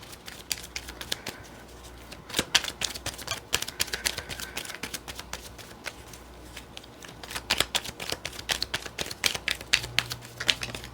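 Tarot cards being shuffled during a romance reading, producing a steady run of crisp, rapid riffling clicks and flutters close to the microphone, with no voices.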